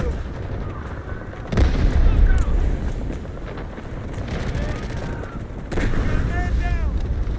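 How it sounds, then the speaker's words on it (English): An artillery barrage and gunfire rumble in the Delta Force video game, with a low, continuous roar punctuated by two heavy booms and scattered distant shots. "Roger that, artillery barrage incoming."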